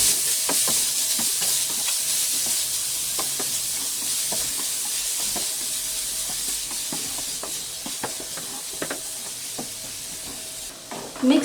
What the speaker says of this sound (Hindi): मिक्स करने के बाद हमें इसे ज़्यादा नहीं पकाना है, 1 या 2 मिनट बस चलाते हुए।